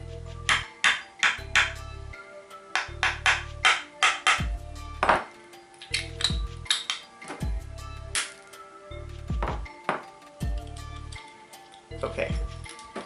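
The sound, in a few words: tapping a screwdriver into a light bulb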